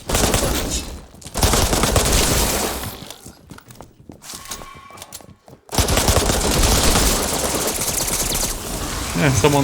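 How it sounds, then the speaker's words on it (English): Rapid gunfire from several weapons in the multiplayer game Resident Evil Re:Verse, loud and dense, breaking off briefly in the middle before resuming in sustained bursts. "someone is shooting me as well."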